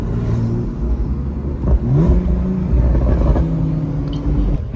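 An upgraded Turbo Targa drives toward a car meet near Charlotte Motor Speedway, its engine rumbling steadily up close, then revving and climbing in pitch through several pulls, loud and continuous.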